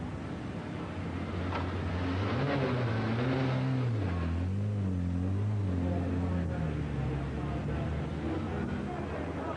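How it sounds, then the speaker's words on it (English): A racing car's engine revs at the start of a 25-lap sprint race, the pitch rising and falling in steady waves, loud and close, with someone talking over it. "Revs rising, heartbeat pounding,"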